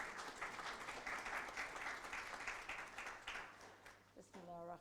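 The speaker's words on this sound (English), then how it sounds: "So round of applause," Steady audience applause for a speaker at an Islamic lecture gathering, dense clapping held throughout and tapering near the end, where a voice briefly begins to speak.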